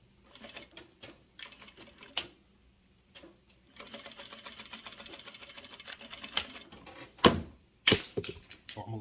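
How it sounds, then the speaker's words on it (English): A sewing machine stitching down the folded-over, burned ends of a strap, running in short bursts and then a longer steady whir, mixed with scattered clicks and handling noises close by. "fold them over about 1/2 inch, and just sew that down."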